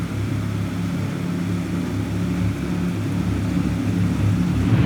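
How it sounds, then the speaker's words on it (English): Jet boat on the river near Queenstown, New Zealand, a steady low engine drone that builds gradually as the craft approaches, with no talking over it. "I can hear it coming now. So this boat we're getting is a jet boat."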